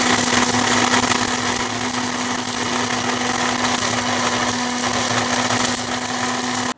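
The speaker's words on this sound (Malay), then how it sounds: "cuba blender dengan blender yang besar ni" A large kitchen blender churning a spicy tandoori-style chicken marinade runs steadily with a loud, constant motor whine, close up and alone, cutting off abruptly at the end.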